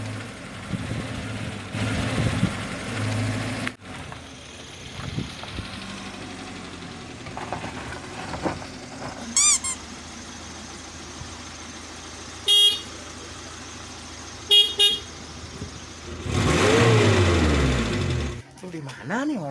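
A very old car's engine idling and sputtering with rough, uneven knocking, joined by short horn toots and creaks, while people talk over it throughout.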